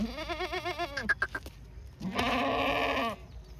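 Two drawn-out bleats from red Kathiyawadi goats close by, the first quavering and the second louder and brassier, separated by a short pause.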